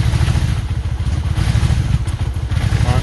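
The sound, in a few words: 1994 Honda Magna VF750 motorcycle engine running, backfiring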